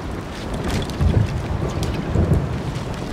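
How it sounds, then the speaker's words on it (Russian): A thunderstorm brings a continuous hiss of heavy rain with deep thunder rumbling low beneath it, loud and steady throughout, with no voices. "Гроза."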